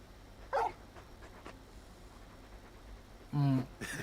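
Torgal, the big hound in Final Fantasy XVI, gives a short whine and later a louder yip or bark over a steady game ambience with faint background sounds.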